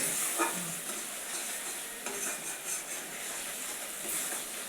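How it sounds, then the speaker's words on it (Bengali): A spice paste of turmeric and salt fries in a pan on a newly built clay stove, giving a dense, bright, continuous sizzle with occasional stirring scrapes, close and fairly loud with no talking. "মশলাটা কষানো হোক"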